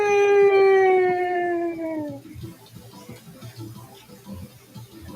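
A gray and black werewolf's long, loud, falling howl that fades out after about two seconds, followed by quieter rustling and movement.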